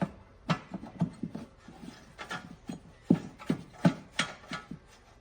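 A nut spun by hand onto a bolt under an LS-swapped C4 Corvette during an 8HP70 transmission swap gives a series of close, light metallic clicks and ticks in an irregular rhythm, with no talking.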